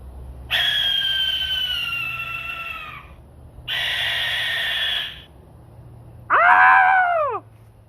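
A barn owl gives three long, harsh screeches separated by short pauses, the last one shorter and bending downward in pitch, loud and close in otherwise quiet surroundings.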